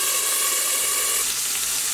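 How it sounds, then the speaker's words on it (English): Green beans fry in hot grease in a covered frying pan, giving a loud, steady sizzle that carries on unbroken, with no voices over it. "I just pour the green beans in, and then I cover them to let them cook a while."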